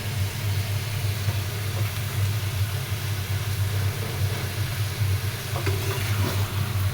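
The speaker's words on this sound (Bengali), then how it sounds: "আর লিমিটেড তেল দিয়ে এটা ভুনা হচ্ছে।" Okra cooked with dried fish, sautéed in a small amount of oil: a steady, moderate sizzle and hiss runs unbroken through the whole stretch over a low background hum, with no talking.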